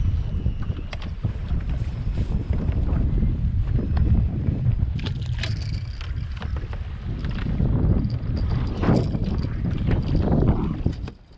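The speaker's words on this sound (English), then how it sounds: "I've got to deal with this wind" Strong wind buffets the microphone on a fishing boat out on the water, a steady loud roar with gusts and occasional knocks, no talking.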